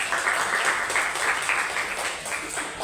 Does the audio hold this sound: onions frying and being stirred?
no